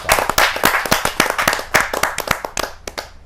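Enthusiastic applause welcoming an honoured guest at a Hindi poetry gathering; a dense burst of many hands clapping close by, sharp and loud, tapering off toward the end.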